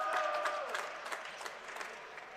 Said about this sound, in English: Looks like a women's volleyball player stepping in, getting an applause